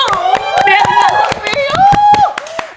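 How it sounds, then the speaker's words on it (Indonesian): An audience claps at a live product review event for the Cilia brand, with a fast patter of claps running under a prominent voice throughout. "Tepuk tangan dulu."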